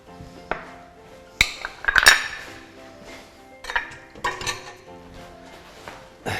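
Clanking saucepan and metal utensils in a kitchen as sugar goes into the pan for apple caramel, a series of sharp clinks and knocks, a few bunched together, close and fairly loud with no voice.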